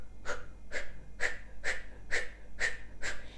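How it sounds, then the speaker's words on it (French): Seven rapid, forceful breath-of-fire exhalations through the mouth in Kundalini yoga, evenly spaced in a steady rhythm of about two per second, each a sharp, close, breathy puff with no talking. "Et on va utiliser la respiration du feu par la bouche."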